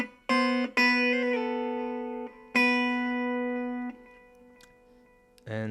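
Electric guitar picking a clean arpeggiated intro riff, open strings ringing over several plucked phrases with sustained decaying notes, close and clear, played alone without talk.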